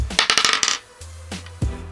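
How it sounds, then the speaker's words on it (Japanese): Four plastic ten-sided dice rattle and clatter in a quick burst of sharp clicks, followed by a few single dice knocks as they settle, close and fairly loud, with no talk. "10面サイコロを使って振っていきたいなと思います。"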